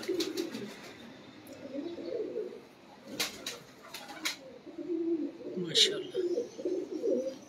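A domestic pigeon kept for pigeon-flying coos in low, rolling bursts, soft and near, with a pause in the middle. Sharp clicks and brief chirps break in a few times over the cooing.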